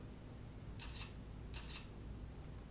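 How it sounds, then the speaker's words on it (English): A Xiaomi Redmi Note phone camera fires its shutter twice, two quiet, crisp double-click snaps roughly three-quarters of a second apart, heard alone against faint room hiss. "Not the fastest shutter speed, pretty slow actually"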